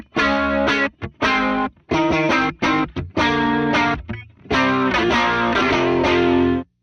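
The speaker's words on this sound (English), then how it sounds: "vibrato and just that whole Bucket Brigade thing is such a vibey texture" Electric guitar played through a Warm Audio WA-C1 bucket-brigade chorus vibrato pedal, a run of loud, choppy chords and short phrases with brief gaps, the tone thick and warbling, no voice.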